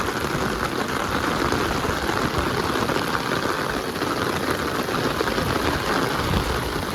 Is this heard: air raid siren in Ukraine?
no